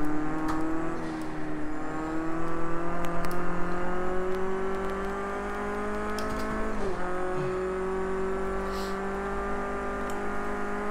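Race car in Project Cars 2, played with a Thrustmaster TX racing wheel, its engine holding a steady, loud whine that climbs slowly and dips at a gear change partway through.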